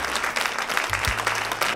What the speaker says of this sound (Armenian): ուզում եմ էլի ծափահարել